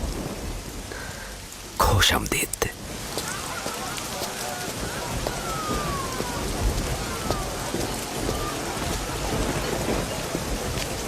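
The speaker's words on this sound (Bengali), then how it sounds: "দেখো বৃষ্টি এসেছে" Rain falls steadily with a sharp thunderclap near the start, followed by continuous patter and a distant rumble, with brief speech in the mix.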